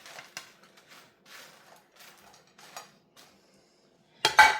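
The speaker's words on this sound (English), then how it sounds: "I'm gonna go ahead and take a little fork and move some over to mine" A small metal fork scrapes and pushes french fries across an outdoor propane griddle, giving a series of light, close clinks and scrapes, ending in a louder sharp metallic clatter.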